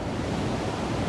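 A waterfall in the Smoky Mountains sends out a constant broadband rushing roar, steady and fairly loud throughout with no other sounds.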